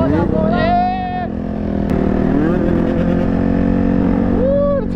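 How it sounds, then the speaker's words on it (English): A two-stroke dirt bike engine approaches, its buzzing note loud and close as the revs rise and fall in sweeping pitch changes, with a brief sharp click partway through. "Woo, the two-stroke coming in."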